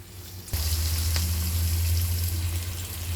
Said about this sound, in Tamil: வெங்காயம் இன்னும் கொஞ்சம் வதங்கணுங்க.